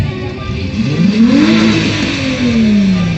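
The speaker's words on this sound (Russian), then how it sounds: "На старте у нас гольф." A Volkswagen Golf race car at the start line of a Moscow motorsport event revs hard, its engine note climbing, wavering and rising again, loud and close.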